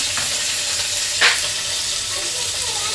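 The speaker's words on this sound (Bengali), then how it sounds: "সঙ্গে বরবটিগুলো দিয়ে দিচ্ছি একসাথে একটু ভেজে নিচ্ছি" Eggplant and yardlong beans fry together in a pan for shukto, a steady sizzle running throughout with one brief louder burst of spatter near the middle.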